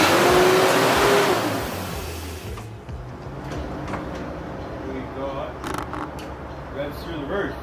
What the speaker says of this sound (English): Revs through the roof.